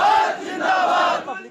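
A large crowd of people holding the Indian tricolour flag chants and shouts in unison, a loud, dense roar of many voices that swells briefly and then fades.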